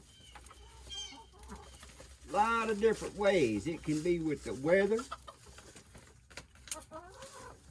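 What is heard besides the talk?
chickens (hens) clucking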